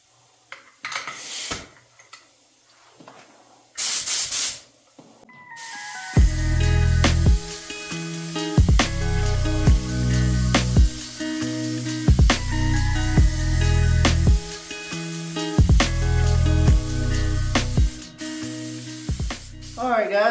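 Rust-Oleum spray paint hisses close by in repeated bursts, each pass lasting a second or two with short pauses between, in a steady rhythm.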